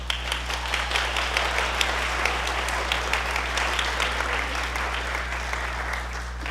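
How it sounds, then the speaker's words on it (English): Audience applauding at a school band concert, a steady crowd of claps in a hall over a constant low hum, even and sustained without voices. "And you may clap after each one."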